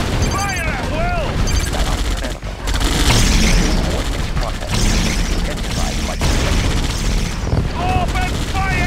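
Units opening fire in the real-time strategy game Yuri's Revenge, with bursts of gunfire, machine-gun rattle and heavy booming explosions stacked in a dense battle mix, along with short game voice responses and electronic chirps.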